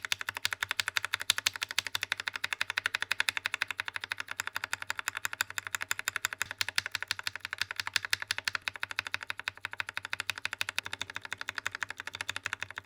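Rapid, steady clicking and clacking of keys on a mechanical keyboard with Akko tactile switches, crisp and close, a continuous stream of keystrokes with no voices.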